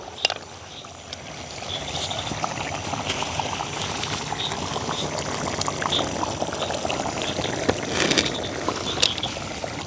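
Rice boils in a pot over a village cooking fire, a continuous bubbling, gurgling simmer with small pops, close and moderately loud throughout.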